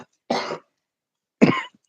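Two separate coughs about a second apart, close and fairly loud, each a short raspy burst with silence between them.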